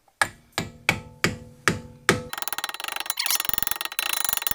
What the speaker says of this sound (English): Hammer back out a lot of the damage you did at the cap.